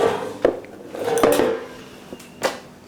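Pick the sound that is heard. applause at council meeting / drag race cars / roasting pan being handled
roasting pan being handled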